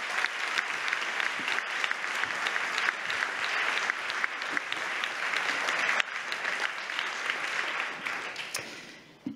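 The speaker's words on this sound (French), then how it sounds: "Je vous demanderai quand même de l'applaudir très fort" Audience applause at a university thesis-in-180-seconds final, loud sustained clapping from a large hall crowd, dense and steady for several seconds before tapering off at the end.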